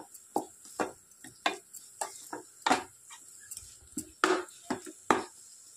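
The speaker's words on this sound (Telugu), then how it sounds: "నేను వేసుకొని బాగా లైట్గా ఫ్రై చేసుకోవాలి." Paneer stuffing for paratha frying lightly in a pan while being stirred, with repeated scraping and clinking strokes of a spatula at an irregular rhythm over a faint, low sizzle, close and moderately loud.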